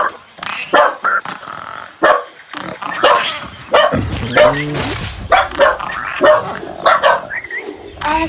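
Several dogs bark and yip repeatedly, loud and close, in bursts under and between a person talking, with some growling mixed in.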